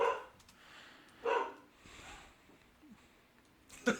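Dogs bark in a few separate bursts at moderate distance, with quieter gaps of room noise between the louder yelps.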